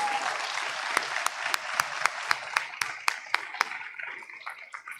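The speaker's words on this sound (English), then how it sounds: "One more round of applause for these authors." An audience at a school board meeting applauds student authors, a sustained round of clapping with a few sharp individual claps standing out, fading toward the end.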